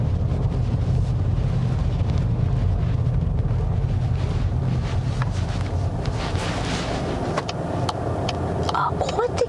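Cabin of a Volkswagen Golf TDI R-Line with its new diesel engine running, a steady low rumble filling the interior throughout, with faint wind noise on top.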